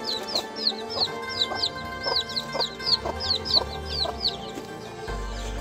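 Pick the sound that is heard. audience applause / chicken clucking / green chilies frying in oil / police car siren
chicken clucking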